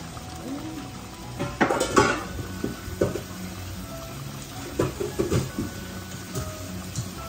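Fried rice vermicelli with egg and soy-sauce meat is stirred in a pan, producing intermittent scraping and clinking of the utensil against the pan, moderately close, with quieter gaps in between.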